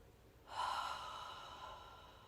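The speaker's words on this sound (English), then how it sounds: "opening the mouth and slowly exhaling out the breath." A person takes a deep breath and lets it out slowly through the mouth in a guided breathing exercise, heard as one close, soft, airy exhale that swells and then trails off gradually.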